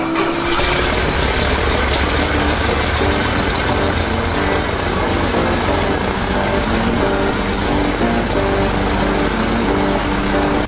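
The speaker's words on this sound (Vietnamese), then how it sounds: "Sau một hồi thao tác thử, anh bắt đầu thử nổ máy." An engine on a long-abandoned aircraft under restoration is started, producing a loud, steady mechanical roar with a rising whine at first, then settling into a continuous drone with no pauses.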